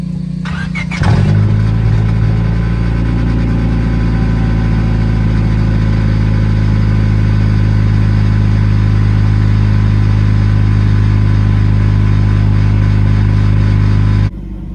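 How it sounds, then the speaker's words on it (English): A Honda Civic with a newly installed exhaust cold-starts with a sharp crank and catch, then settles into a loud, steady, droning idle close by that runs until it cuts off at the end. "now I'm just gonna give you guys a quick little cold start"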